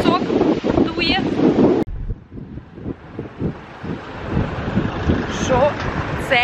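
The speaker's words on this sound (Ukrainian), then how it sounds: "А тут пісок дує." Strong wind blows sand outdoors and roars across the microphone in steady gusts, with voices speaking at the start and near the end.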